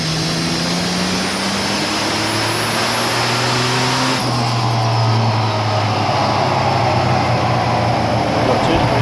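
A turbocharged Holden Commodore ute runs on a dynamometer, its engine revving loudly and steadily as the pitch climbs through the run, with a whining rise in tone and a voice talking over it.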